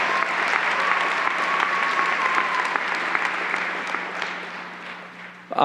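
An audience at a university commencement ceremony applauds with loud, sustained clapping that holds steady for several seconds before tapering off at the end.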